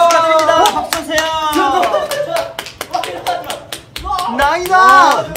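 Scattered hand claps from a small group at a non-contact year-end awards show, sharp and close, mixed with lively talking voices.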